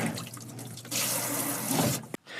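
Tap water gushes steadily into a small sink in a converted travel van with good pressure, a broadband rush that swells then cuts off abruptly near the end.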